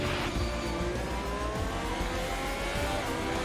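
A Formula 1 car in the F1 2021 video game at the Canadian circuit drives into the pits, its engine a loud, steady high-pitched whine with shifting revs throughout.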